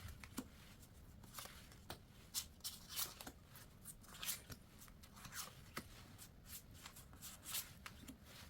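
Tarot cards are shuffled up close, a quiet run of soft papery riffles and taps in an uneven rhythm, with no talking.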